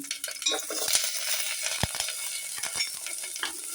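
Garlic and onion sauté in a pan for corn soup, giving a bright sizzling hiss broken by sharp clicks and taps of a spoon against the pan, close and fairly quiet, with no one talking.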